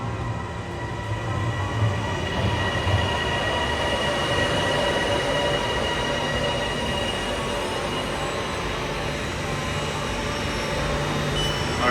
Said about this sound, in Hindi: और जो है वो हमारी ट्रेन आ गई है एयरपोर्ट जाने के लिए